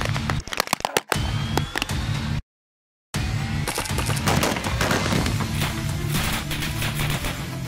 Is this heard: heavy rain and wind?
no